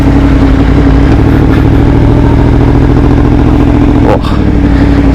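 Motorcycle engine with a V-twin or V4 character, loud and close, holding a steady throbbing idle-like rumble throughout with a brief dip near the end, no talk over it.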